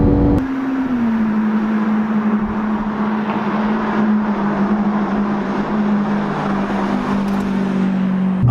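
Lamborghini Aventador SV with a naturally aspirated V12 revving loud and close, a sustained steady engine drone holding high revs for several seconds before dropping off at the end.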